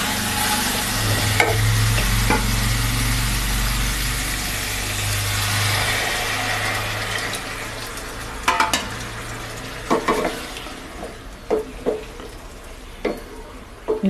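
Hot water is poured into a pan of frying egg curry, giving a loud, close sizzle and rush that fades into quieter bubbling. Sharp clinks of a stirring spoon against the pan follow, with no voices.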